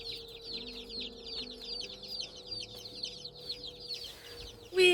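Rhode Island Red chicks peep rapidly and continuously in a chorus of high chirps, fairly close, with a brief louder rustle at the end.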